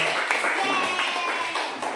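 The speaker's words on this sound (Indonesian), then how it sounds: "Tepuk tangan sama teman-teman." A classroom group claps together in brief, scattered applause after a practical demonstration, fairly faint and mixed with room murmur.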